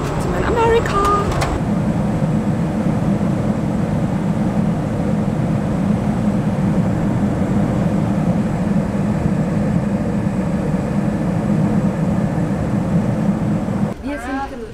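Steady low engine drone and air rush fill an airplane cabin during landing approach to Orlando, Florida, constant and loud, with brief chimes at the start and a voice at the end.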